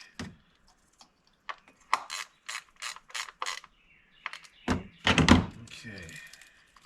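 Ratchet snugging bolts on the charcoal canister of a Toyota Corolla: several short bursts of clicking pawl strokes separated by pauses, close, with mechanical clunks and faint talk mixed in.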